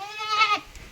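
A goat on a farm gives a single nasal bleat, wavering and fairly close, rising to a peak midway through the second before fading into quiet.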